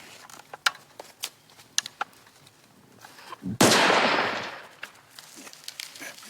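A single loud rifle shot cracks out at a Canadian Forces firing range, its sharp blast trailing off in a long echoing decay, with small clicks and handling noises before and after.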